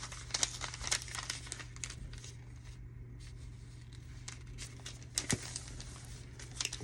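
A sheet of paper is folded and creased by hand for a junk journal, with soft close crinkling and rustling at low volume over a steady background hum.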